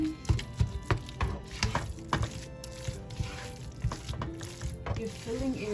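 A spoon scrapes and knocks against the bottom of a pan while pastry filling is mixed, giving repeated close thuds and scraping strokes in an uneven rhythm, with faint frying sizzle underneath.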